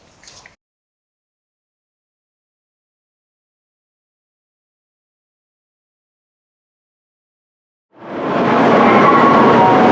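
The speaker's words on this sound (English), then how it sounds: "Is this your train?" A train running, heard only in the last two seconds as a loud, steady broadband rumble that starts abruptly after a long silence.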